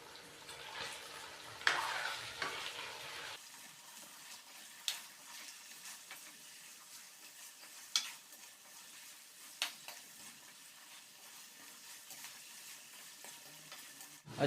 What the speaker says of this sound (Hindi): चिकन को शामिल करने के बाद हम इसको अच्छे से मिक्स करेंगे